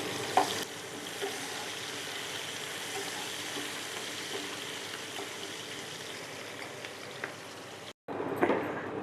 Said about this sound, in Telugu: పచ్చిమిర్చి, ఎండుమిర్చి వేసేసుకుందాం. ఇవి వేగాలి అన్నమాట ఉల్లిపాయ.